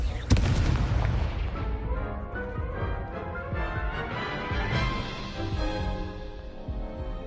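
Confringo fire spell from Hogwarts Legacy bursting in a sharp booming explosion, followed by a long rumbling, crackling tail of fire and debris that slowly fades.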